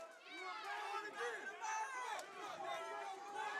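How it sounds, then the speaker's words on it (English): Loud, dense crowd noise fills an arena during a live MMA fight, with a steady roar of shouts and cheers that never lets up, and overlapping voices bursting through it. "Man, it is loud in here, huh?"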